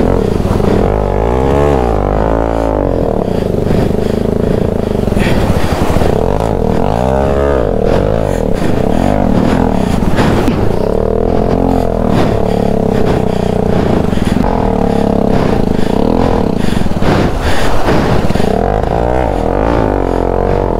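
Motorcycle with a burnt clutch plate revving after a river crossing in Zanskar, Ladakh, a loud continuous engine roar with rising and falling rev sweeps plus scraping and clatter throughout.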